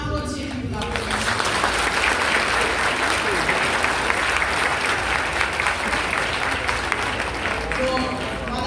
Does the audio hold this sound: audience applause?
yes